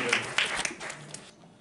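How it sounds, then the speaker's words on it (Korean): Brief burst of dense clapping from students welcoming first-year classmates in a school gathering, a rapid patter of hands that tapers off and stops after about a second. "우리 다른 친구들 한번 박수로 뜨겁게 한번 환영합시다"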